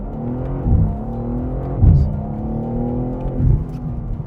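A car driven fast through a corner in two-wheel drive, its engine droning loud and close with a steady strained note and brief surges as the power comes on, no voices over it.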